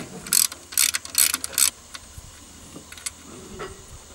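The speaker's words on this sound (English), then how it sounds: "I'm going to take off this bracket that's holding the alternator on, and it has two 13mm nuts," A ratchet clicks in several quick bursts while loosening 13mm nuts on the alternator bracket of a Buick LeSabre, followed by faint metallic handling noises nearby.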